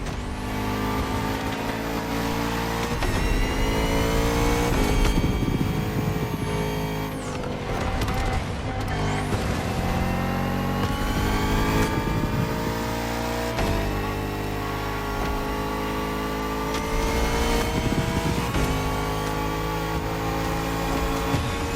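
A Bugatti Vision GT engine in The Crew Motorfest racing game revs hard and loud, climbing through repeated gear shifts with sweeping rises and brief drops, alone without talk.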